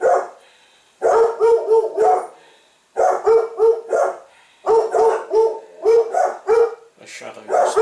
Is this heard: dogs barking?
yes